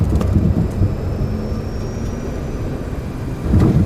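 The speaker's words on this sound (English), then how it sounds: "All right, reversers are on." Thrust reversers roar on a Saab 340 turboprop during landing in the X-Plane 11 flight simulator, a loud steady rumbling engine wash that swells again toward the end.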